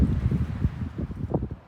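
Strong wind gusting outdoors on a homestead near a chicken coop, rumbling and buffeting in low uneven bursts with a rustling texture, fairly close and continuous before easing at the end.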